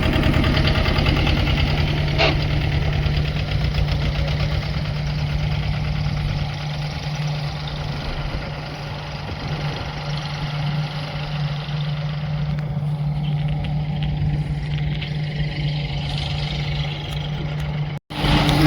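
A tractor engine idles steadily with a low, constant hum and mechanical rattle, continuing without pause and briefly cutting out near the end.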